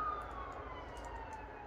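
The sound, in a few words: emergency vehicle sirens outside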